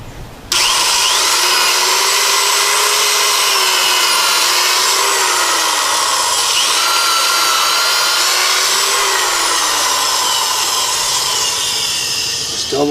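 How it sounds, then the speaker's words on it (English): A vintage Skil power drill drills holes in wood, a loud, steady high-pitched motor whine running continuously with slight pitch dips as the bit bites, starting abruptly and stopping at the end. "So we'll drill these last two with our vintage skill drill."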